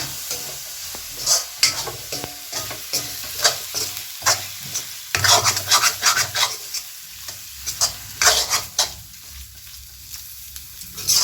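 Prawns being stirred in a hot pan for prawn gravy give steady close scraping strokes over a continuous sizzle, with the stirring rhythm irregular and fairly loud throughout.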